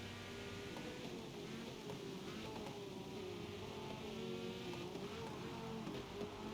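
A Ferrari race car's engine drones steadily in the Forza racing game during a rainy Mugello race, a continuous mid-distance engine tone with shifting pitch and no talk.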